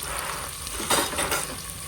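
Onions frying in a pan for a rice dish, a steady close sizzle with a few brief stirring scrapes and utensil clinks partway through.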